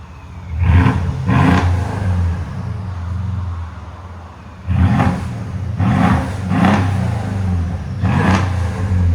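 A 2013 Mercedes S550 with a 5.5L V8 and muffler delete revs in bursts: two quick blips, then three more after a pause, each rising loud over a steady rumbling idle close by.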